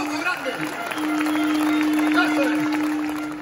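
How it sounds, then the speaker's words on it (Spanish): Crowd at an outdoor rally of farmers and ranchers breaks into applause, a dense, steady wash of clapping that swells after a moment and holds loudly, with a sustained tone ringing over it and faint voices underneath. "Un aplauso grande."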